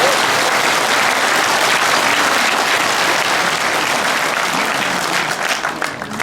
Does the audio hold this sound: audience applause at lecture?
yes